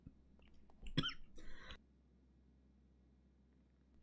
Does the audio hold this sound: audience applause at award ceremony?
no